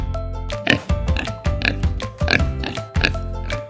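Repeated oinks from a toy pig sound in rhythmic bursts over a steady musical backing, close and clear, about six grunting pulses across the stretch.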